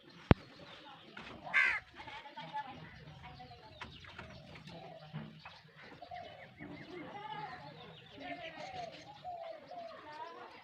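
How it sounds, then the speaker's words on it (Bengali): Several crows caw loudly and repeatedly, close by, as they peck at an egg left to fry in the sun, while voices murmur faintly in the background. "এই যে ডিম, কাকগুলো এসে খাচ্ছে"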